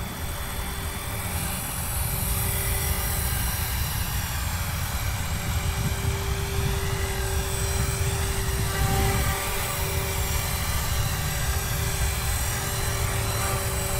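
A Blade 360 CFX RC helicopter hovers close by after a failed first flight, its rotor giving a steady whirring buzz with a constant motor whine that holds even for the full fourteen seconds, with no talk.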